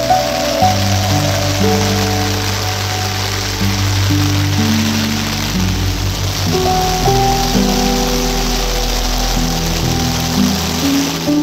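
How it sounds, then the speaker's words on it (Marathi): Torrential monsoon rain pours down in Konkan at Devgad, a loud, dense, unbroken roar of water that holds steady throughout, with low tonal hum beneath. "अक्षरशः ढग फुटीसारखं पाऊस लागता आपल्या कोकणाचा"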